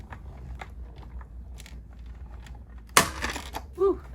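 Quiet background with faint ticks, then a sudden loud crunching crack as paper in a thick embossing folder is cranked through an embossing machine, followed by a short squeak.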